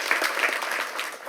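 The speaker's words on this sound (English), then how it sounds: "Can we please give them all a round of applause?" A crowd claps enthusiastically, a dense burst of applause that holds steady before tapering slightly at the end.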